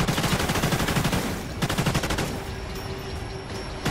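Rapid automatic gunfire rattles from a gun in Call of Duty Ghosts, loud and close, in a fast burst that pauses briefly and then resumes as a second stream of shots.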